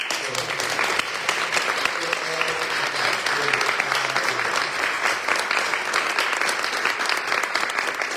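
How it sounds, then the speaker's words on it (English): Sustained audience applause at an MLK international poetry and storytelling festival, a full, even round of clapping from a large crowd that carries on for several seconds, with a voice faintly underneath. "let's just give one more round of applause"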